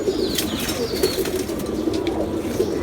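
A rare pigeon breed known as chini gura chor gives soft, repeated cooing close by, with a brief flutter of wings and no talk over it.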